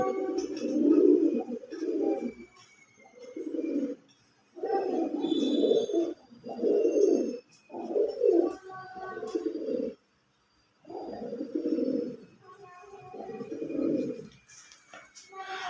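Pigeons coo repeatedly nearby in low, throaty rolling bursts separated by short pauses.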